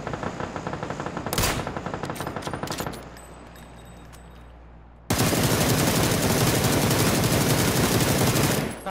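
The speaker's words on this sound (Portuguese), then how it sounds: "os caras atirando aqui embaixo" Rapid automatic gunfire from players shooting below in PUBG on the Miramar map: a short burst, a lull, then a long, loud, sustained stream of shots.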